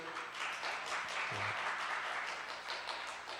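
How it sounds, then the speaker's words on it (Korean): Steady applause from a church youth worship congregation, fairly quiet and even, continuing throughout with no pauses. "박수 한번 쳐주실게요."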